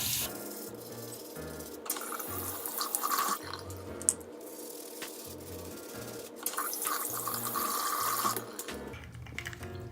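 A makeup brush being rinsed under a running tap: a steady, close stream of water with shifting splashy patches as the brush moves through it. Nobody talks.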